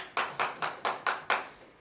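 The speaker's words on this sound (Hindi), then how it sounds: "तालियां।" Six distinct, evenly spaced hand claps sound close and crisp in a quick steady rhythm, from a stage comedy performance, with no voices over them.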